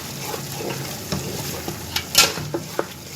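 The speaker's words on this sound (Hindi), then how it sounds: "गोश्त को इसके साथ मसाले के साथ मिक्स कर देंगे" Boiled mutton stirred into fried masala in a cooking pan, with a soft sizzle under scraping spoon strokes and a few sharp clinks against the pan, all close and brief.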